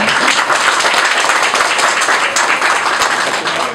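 Applause from an assembly standing for a ministerial installation ceremony, a dense, steady wash of many hands clapping at once. It is loud and fills the whole stretch, with no voices breaking through.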